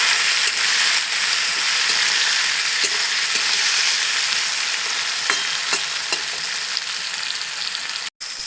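Chopped tomato frying with onions in a pan for a Bengali new-potato curry, a steady close sizzle with light stirring scrapes running throughout, no talking.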